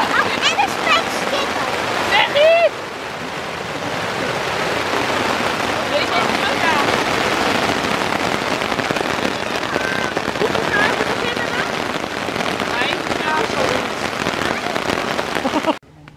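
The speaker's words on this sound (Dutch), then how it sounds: "Het gaat zo meteen keihard regenen." Heavy rain shower drumming on a tent at a farm campsite, a dense, loud, continuous hiss and patter throughout, with people talking faintly beneath it before it cuts off at the end.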